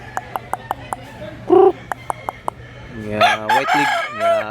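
A white-legged gamecock crows loudly nearby, preceded by a series of sharp, evenly spaced clicks and a brief clucking call.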